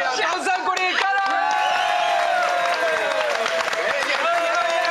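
Loud studio audience applause and cheering on a Taiwanese TV variety show, dense clapping sustained throughout with bright crowd noise and shouts layered over it.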